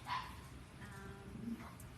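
Poppy, a special needs dog, gives a single short bark at the start, followed by faint whimpering and quieter yips at low volume, with soft background voices nearby.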